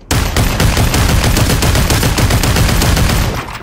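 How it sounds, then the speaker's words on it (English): Rapid, sustained M60 machine gun fire in the VR shooter Population One, a loud continuous burst of closely packed shots lasting several seconds with no talk over it. "the M60 like the rate of fire accelerates"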